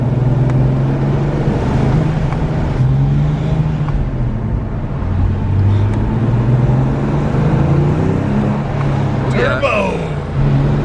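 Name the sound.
Porsche 911 997 Turbo manual engine accelerating while driving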